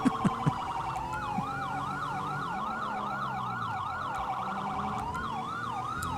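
A police car siren in the video game GTA 5 wails and yelps continuously and loudly, sweeping up and down in pitch with a few sharp clicks at the start.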